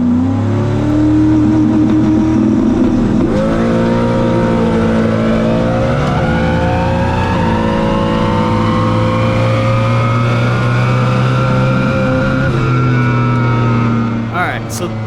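A drag racing car with a stock Gen 1 Coyote engine makes a pass, its loud sustained engine note climbing through gear changes for the full stretch before easing off at the very end.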